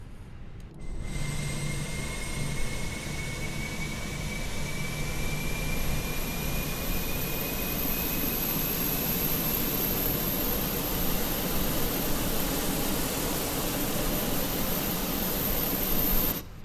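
Steady broadband whine of a Fenix A320-200 auxiliary power unit running in Microsoft Flight Simulator, with a slowly rising tone that starts after a brief quiet moment and then holds constant at moderate loudness throughout.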